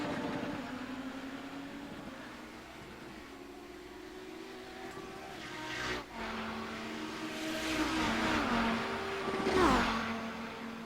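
A 700HP Audi 90 GTO race car runs at speed around the Nürburgring, its engine droning steadily with shifting pitch, then swelling louder with a sharp rising whine near the end.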